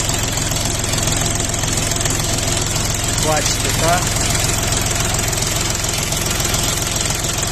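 Jinma 24 hp mini tractor engine idling steadily at close range with the hood closed, a continuous low rumble while someone talks over it.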